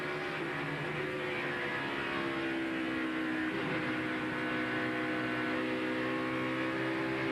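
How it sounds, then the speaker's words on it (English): Race cars at the 2002 Pennsylvania 500 stock car race, engines droning steadily and continuously with shifting pitch as they downshift and upshift through the turns, heard from a distance as a dense, sustained roar. "Now they're downshifting in 1, upshifting right about where these guys are here in between 1 and 2, then downshifting again"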